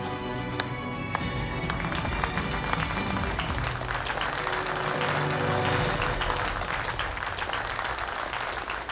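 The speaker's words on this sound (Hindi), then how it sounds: "जोरदार तालियों से इनका हौसला बढ़ाइए" Audience at a large party applauding hired staff, a dense sustained burst of clapping that stays loud and even for the whole stretch, with no talk over it.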